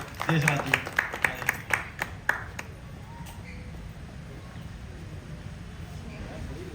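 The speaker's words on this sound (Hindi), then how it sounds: "भाई देशराज, इनके लिए जोरदार ताली बजाइए" Audience at a stage gathering gives a short burst of clapping that fades out after about two seconds, leaving a room murmur with voices in the background.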